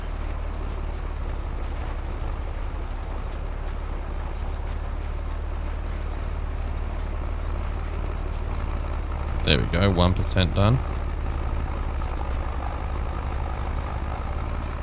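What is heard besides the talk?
tractor engine driving in a farming video game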